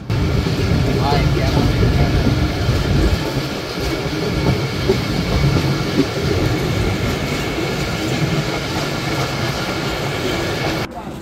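Titumir Express rolls steadily after pulling out of Parbatipur railway junction, carrying a continuous rumble with clickety-clack of the wheels on the rails and faint voices in the carriage.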